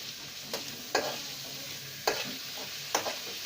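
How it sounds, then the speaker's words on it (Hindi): Egg masala with green chillies and onions being stirred in a sizzling frying pan, a spoon scraping the pan in four distinct strokes over a steady frying hiss. "इसको अच्छे तरीके से मिक्स करेंगे।"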